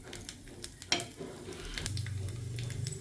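Black mustard seeds and whole cumin sizzle in hot mustard oil in a pan, with crackling pops and a steady frying hiss that builds over a few seconds.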